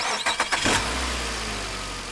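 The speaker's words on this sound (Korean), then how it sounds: "재현은 결심하며 오랜 시간 방치되어 있던 낡은 차에 시동을 걸었다" An old car that has long been left unused cranks with a few quick rhythmic chugs, then catches and settles into a loud, steady idle heard up close.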